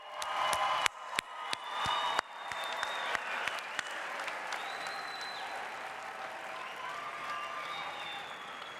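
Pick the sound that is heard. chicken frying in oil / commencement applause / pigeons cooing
commencement applause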